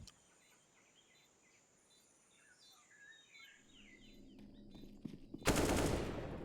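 Pistol gunfire in a CS:GO match on the Ancient map at the PGL Major Stockholm 2021, with sparse shots under quiet game ambience building to a loud, dense burst of fire near the end.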